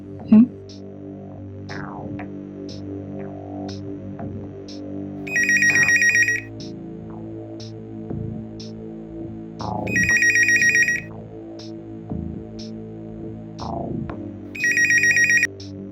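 A phone ringtone repeats in three short bursts at regular intervals, layered over a droning musical background with occasional swooping tones.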